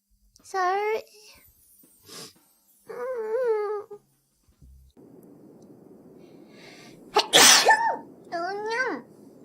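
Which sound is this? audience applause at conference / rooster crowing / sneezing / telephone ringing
sneezing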